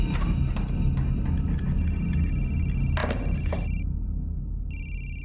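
A telephone rings in a repeating electronic trill over a steady low background hum, the ring cutting out briefly before resuming, with no voices heard.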